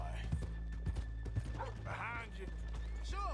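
Horses clip-clop with hooves on the ground, a horse whinnies and snorts and a dog yips, all under people talking.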